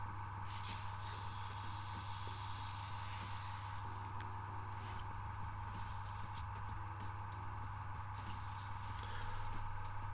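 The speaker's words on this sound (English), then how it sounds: "I started airbrushing" An airbrush spraying paint onto a Kingdom Death miniature, a faint, continuous airy hiss over a steady low electrical hum.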